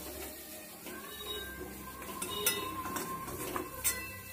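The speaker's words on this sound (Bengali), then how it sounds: "সব সবজিগুলো এক জায়গাতেই তুলে নিলাম" Fried summer vegetables are scooped out of a wok, soft scraping with a couple of sharp metallic clinks from the utensil against the pan, fairly quiet and close.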